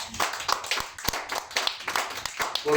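Church congregation clapping together, a close, fairly loud run of quick, uneven handclaps with a few sharper individual claps standing out.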